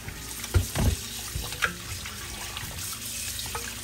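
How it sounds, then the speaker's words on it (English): Raw pork rinsed under a running kitchen tap: a steady wash of water mixed with a few dull thumps and splashes as the meat is handled, close and moderately loud. "So I'm just rinsing it off."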